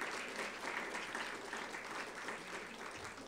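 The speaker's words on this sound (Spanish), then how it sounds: "Fuerte aplauso, por favor para Jesús Gerardo Ramírez." Steady audience applause at a history museum award ceremony, many hands clapping in a continuous wash that sits fairly distant and quiet in the room.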